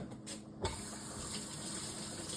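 Running water rinsing out a container in a kitchen, a steady soft hiss and splash from the tap lasting the whole moment, with a single knock near the start and no talking.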